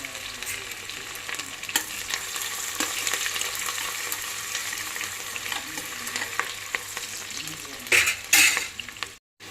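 Whole spices with chopped onion and green chillies sizzle and crackle steadily in hot oil for Andhra country chicken biryani, with occasional stirring and a louder burst of sizzling near the end.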